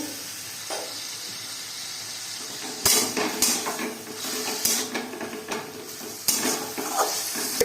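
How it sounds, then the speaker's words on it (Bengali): Ginger paste stirred into frying chicken for chicken chowmein, a steady sizzle with repeated sharp metallic knocks and scrapes of a spatula against the pan, close and without talk. "আমি এতে একটু আদা বাটাটা দিয়ে নাড়ছি"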